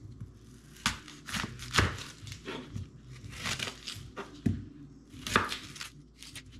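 Onion being chopped on a cutting board, a series of close, crisp knife strikes in an irregular rhythm with short pauses between bursts.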